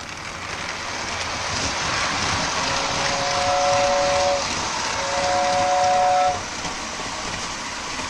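A Lionel Madison model train car, worn with aging bearings, runs a lap on its track under high voltage, a steady rolling rumble with two long squealing tones as it rounds the corners.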